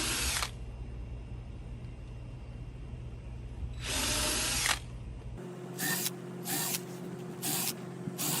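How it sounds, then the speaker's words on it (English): Power drill driving screws through a DIY rail template, with two sustained loud whirring bursts followed by a string of short, choppy trigger pulses, no talking. "Now I'm just going to go down my template and just screw in the middle."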